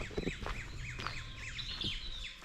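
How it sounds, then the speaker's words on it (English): Bulbuls and mynas call in a tall evergreen forest on Nandi Hills, a busy mix of repeated chirps, squawks and whistled notes at moderate distance with no talking. "Can hear quite a few birds"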